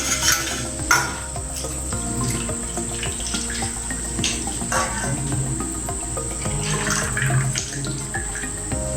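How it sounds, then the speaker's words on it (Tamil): Agar agar milk pudding is poured onto a plate in a steady, continuous liquid stream that runs throughout, close and fairly full, with a faint constant hum in the background. "நம்ம இந்த பிளேட்டில் ஊற்றிக்கலாம்."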